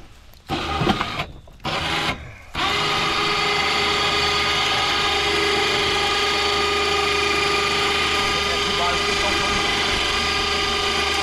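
A 2,500-pound winch pulls 1,250-pound test string to put up a new farm fence. A few clicking bursts open it, then a steady, close mechanical ratcheting whir runs unbroken to the end.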